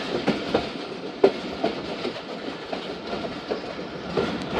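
The Karachi Express rolls along its rails in Pakistan toward Raiwind Junction, giving a continuous rumble with repeated clickety-clack wheel knocks and a sharper clank partway through.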